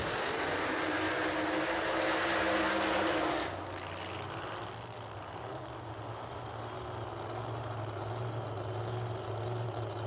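A pair of supercharged drag racing cars with screw blowers, one a 1968 Camaro, idle at the Yellow Bullet Nationals strip as a steady, rough, loud drone that dips slightly partway through and holds on.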